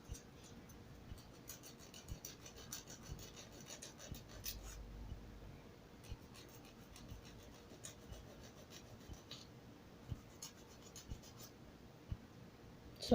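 Gel nails being filed and shaped with a nail file: a faint, steady scratchy rasping with quick repeated strokes throughout, quiet and close, with no talking.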